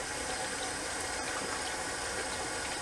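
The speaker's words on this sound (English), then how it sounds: "just starting to get some warm water up here" Warm water runs steadily from a tap while someone prepares to shave with a shaving brush, a continuous close hiss and splash with a single small click partway through.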